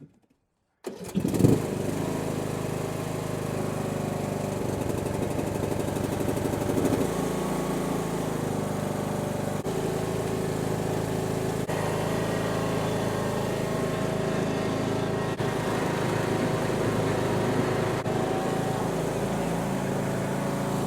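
Husqvarna riding lawn mower starts up after a battery replacement, a brief crank then a steady, close engine drone that idles evenly for about twenty seconds.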